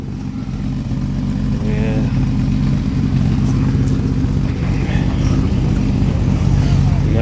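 A big Triumph six-cylinder classic car idles and pulls away at a vintage road rally, its exhaust a low, steady, throaty burble close by, with a brief voice heard over it.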